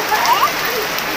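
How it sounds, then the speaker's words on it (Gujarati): Rain pouring down at a vegetable market during a Jetpur outing, a steady close hiss of drops on surfaces filling the whole moment, with faint voices mixed in. "આવી ગયો જો વરસાદ"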